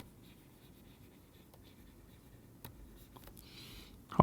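Writing on a board during a math lecture on basis and dimension, with faint, sparse scratches and taps of the marker against a quiet room, ending in a sudden louder knock.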